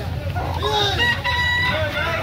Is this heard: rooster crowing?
yes